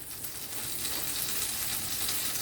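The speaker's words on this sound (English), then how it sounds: "I'm going to go in with a couple of good knobs of butter" Butter sizzles in a hot heavy-based frying pan over medium to high heat, a dense hissing crackle that holds steady and close throughout.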